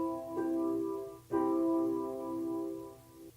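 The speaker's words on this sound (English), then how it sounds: "So a major chord sounds like this." A major chord rings out twice in quick succession, its harmonic notes sustaining cleanly and close up, with no talking over it.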